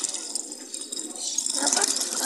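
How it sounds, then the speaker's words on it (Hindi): Fresh water poured into a cleaned container for hens in a village, a continuous filling gush that grows louder and fuller near the end. "ताज़ा पानी इनके अंदर भर लेते हैं हम"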